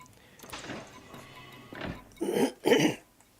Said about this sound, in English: I'm going to be clearing my throat a lot